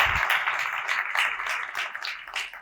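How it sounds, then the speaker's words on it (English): An audience at a university evening event applauds in a steady wash of clapping, moderately loud and sustained throughout without a break. "can we just get one more round of applause for everyone at the university for making this possible?"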